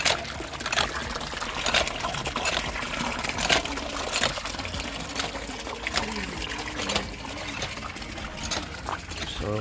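A water pump pours clear water in a steady splashing trickle, with occasional louder gushes and clatters, while people talk intermittently nearby.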